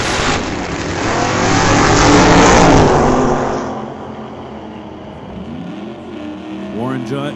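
Drag racing at an old-time event, a Nova wagon among cars launching down the strip: a loud engine roar builds, then fades as the car pulls away, with an announcer talking over it.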